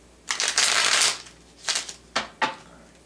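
Tarot cards shuffled in several close bursts, a long riffle followed by shorter quick shuffles and snaps as cards are pulled, with no voice.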